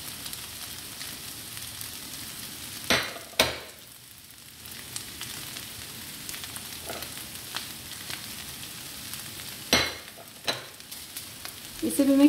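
Potatoes with spices and crushed green chilli stirred in a frying pan, a soft steady sizzle broken by a few sharp scrapes and clinks of the spoon against the pan.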